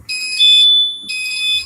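Fire alarm repeater panel buzzer sounding in a loud, clean electronic tone, two bursts with a short gap between, close by.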